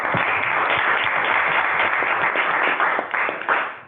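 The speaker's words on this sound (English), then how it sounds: "let's give Andy a round of applause" An industry meeting audience claps for a speaker named Andy, a dense, loud burst of many hands that holds steady before tapering off near the end, with no voices over it.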